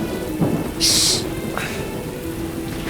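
Rain patters steadily in the background while a brief hissing burst and faint rumbles break through; no one speaks.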